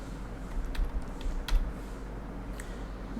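Someone types on a computer keyboard, producing soft, irregular key clicks over a steady low hum, with no talk.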